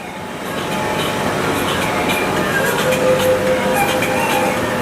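A metro train runs through India's first underwater tunnel beneath the Hooghly River between Howrah and Sealdah, a loud continuous rumble with faint high wheel squeals and clicks, no voices heard.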